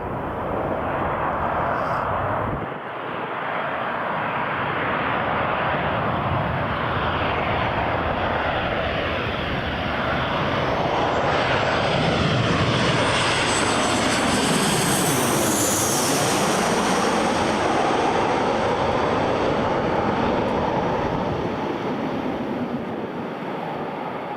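A Jet2 airliner comes in to land at Newcastle International Airport, its engines roaring broadly and steadily for the whole stretch, growing slightly louder as it passes, with a whining pitch sweeping down midway.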